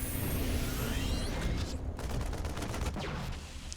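Rapid gunfire rattles against a Terran engineering bay during a StarCraft 2 match, a dense, continuous barrage of overlapping shots and impacts filling the short stretch without pause.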